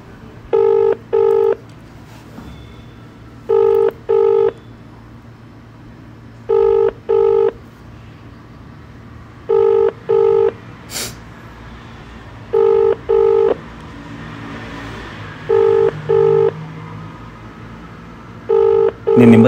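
A mobile phone call on loudspeaker rings out with a repeated ringback tone, paired double beeps at regular intervals over quiet room noise, with faint background voices in between.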